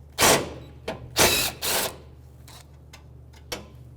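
A 10mm socket wrench on the upper support screws of a 2013-2018 Toyota RAV4 during condenser replacement, heard as a few short bursts of ratcheting clicks with pauses between, close up and fairly loud.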